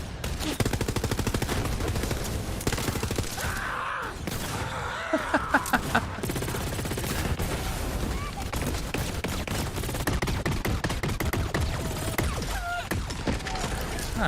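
Rapid automatic gunfire in a multiplayer shooter video game, dense bursts of shots continuing throughout with a few sharper cracks, at moderate level beneath game sounds and occasional talk.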